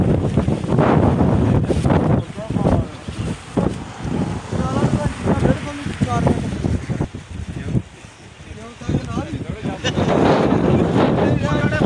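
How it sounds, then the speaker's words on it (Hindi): Strong outdoor wind roars steadily into the microphone as a broad, gusty rush throughout, with people talking over it. "बहुत तेज हवा चल रही है जनाब अभी"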